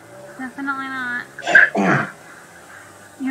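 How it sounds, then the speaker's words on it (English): A man clears his throat in a short rough burst during a Grand Theft Auto 5 gaming session, set between game sounds and nearby talk. "Yeah, I was just clearing my throat."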